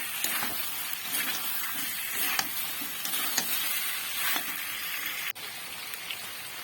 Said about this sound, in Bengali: দিয়ে আবারও এটিকে নাড়াচাড়া করে নেব যতক্ষণ না মশলার গন্ধটি যায় ততক্ষণ এটিকে মেলে নেব